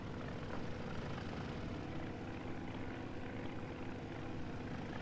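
Propeller aircraft engine in the IL-2 1946 flight game, a steady loud droning roar that holds fairly even with no talk over it.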